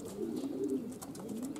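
Young racing pigeons cooing outside the loft on their first day out, a continuous soft throaty cooing close by with faint chirps and outdoor ambience, no voices.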